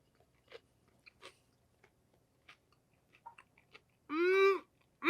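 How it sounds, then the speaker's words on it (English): A hot dog topped with crunchy fried onion is bitten and chewed up close, giving faint, sparse crunches and clicks in near silence before a short vocal sound near the end. "I think I want even a little more fried onion on that for the crunch."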